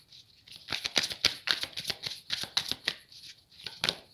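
Tarot cards being shuffled and drawn by hand, a quick series of crisp riffling flicks and soft slaps in an uneven rhythm, close and fairly quiet, with no talking.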